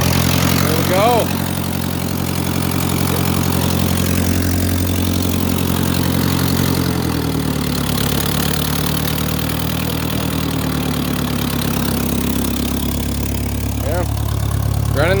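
Ferguson TO-35 tractor engine idling with a steady, even mid-pitched rumble that holds throughout, close by, with a shift in tone partway and talking over it.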